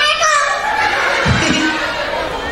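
Young kindergarten children in a noisy crowd voicing their own imitation of a butterfly's sound, a brief low vocal burst amid steady chatter and cheering.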